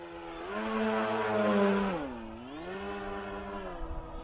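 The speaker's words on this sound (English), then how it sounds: "So I'm gonna go ahead and cruise by us, and then I'm gonna go just jam the throttle" Electric motors of an RC tri-motor FT Bronco model plane whine loudly in a steady tone that swells as it passes near, then drops and bends in pitch as it moves off and cruises on.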